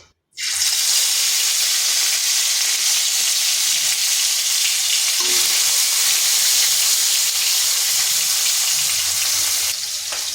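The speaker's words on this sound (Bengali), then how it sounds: "কড়াইতে তেল গরম হতে দিয়েছি, গরম হয়ে গেছে। এরপর মাছের টুকরোগুলো দিয়ে দিচ্ছি।" Fish pieces, rubbed with salt and turmeric, hit hot oil in a wok and fry with a loud, steady sizzle that starts abruptly and holds close and continuous, with no talking.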